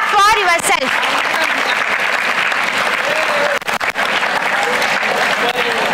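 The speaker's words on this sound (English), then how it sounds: "All of you, I want all the students to clap" A hall of students at an induction program bursts into loud, dense applause that holds steady throughout, with a voice briefly heard at the start over the clapping.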